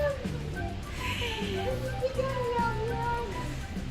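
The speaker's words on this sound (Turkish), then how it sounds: "kedi miyav diyor" A cat meows a few times amid a child's and woman's chatter nearby, in a busy indoor space.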